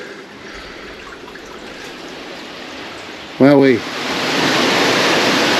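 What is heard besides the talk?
waterfall in an old coal mine tunnel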